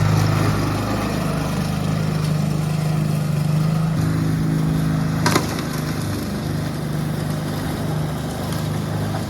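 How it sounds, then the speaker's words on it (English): A lawn mower runs steadily at close range while its blade strikes rocks during a mowing job, with a loud engine drone and a sharp impact burst partway through. "You can hear all the rocks getting beat up."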